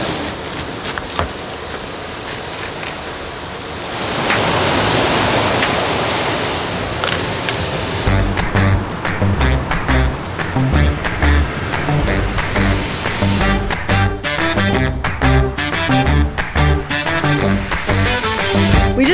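Ocean waves wash against an island shore by a quiet seaside village, a broad steady roar of surf that swells louder partway through and carries on with crackling, splashing texture.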